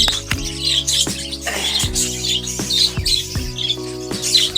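Repeated raspy, high squawks from budgerigar chicks, near and insistent, over a steady musical backing.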